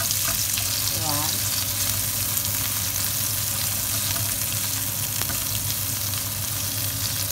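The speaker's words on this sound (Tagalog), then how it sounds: "So, wait natin mag golden brown itong onion at saka garlic." Onion and garlic fry in oil in a pan for squid adobo, giving a steady, close, dense sizzle that runs unbroken from start to end with no talking.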